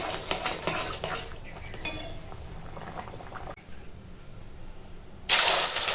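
Metal clatter and clinks as a lid goes onto a pot of simmering lentils, several sharp knocks at first, then quieter bubbling and a loud burst of hiss at the end.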